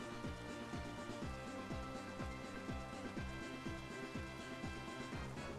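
Rain Dance rain effect in a Pokémon video game battle, a soft hiss of rainfall layered under steady, rhythmic game music that pulses in repeating beats throughout, fairly quiet, with no talking.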